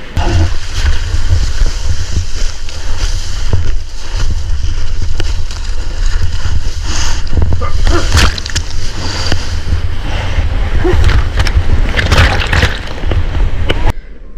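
A surf wave breaking offshore and rushing across amid heavy wind, producing a loud, continuous roar of churning water and gusts with splashy bursts near the board.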